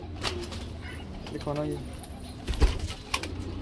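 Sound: pigeons cooing while being handled

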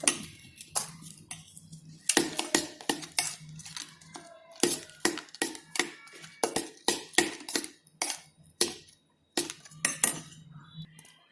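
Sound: mixing homemade butterscotch into ice-cream mixture

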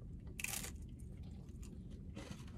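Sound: crunchy raisin bread being bitten and chewed

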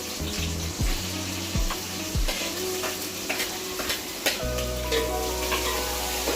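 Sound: mustard seeds, green chillies, tomatoes and onions sizzling in hot oil

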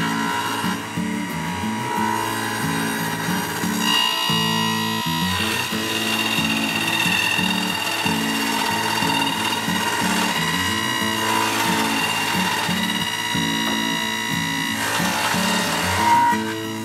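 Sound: table saw cutting a dado in scrap wood

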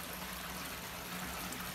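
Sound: water overflowing from bell siphons into aquaponics sump

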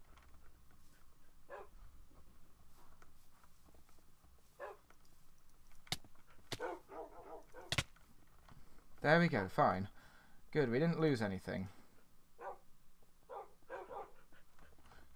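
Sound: dogs barking in the video game Minecraft

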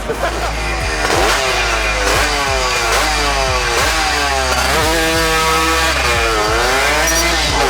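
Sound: Honda Sonic motorcycle with two-stroke Tena engine revving

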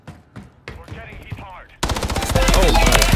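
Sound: gunfire from a video game (Modern Warfare III)

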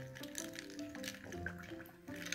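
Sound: L.O.L. Surprise doll being filled with water

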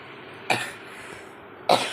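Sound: cough

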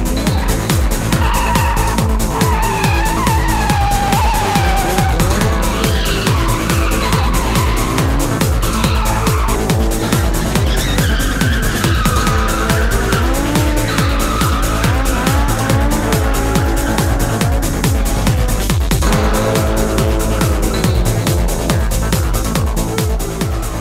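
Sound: street cars drifting with tire squeal

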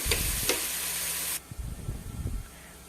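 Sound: sliced onions being sautéed for fish biryani

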